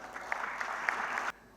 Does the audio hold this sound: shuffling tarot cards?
no